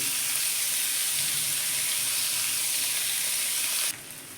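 Chopped onions fry in a wok with a steady, loud, hissing sizzle that runs unbroken for about four seconds, then drops suddenly to a quieter hiss. No voices are heard.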